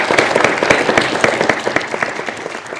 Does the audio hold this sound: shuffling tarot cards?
no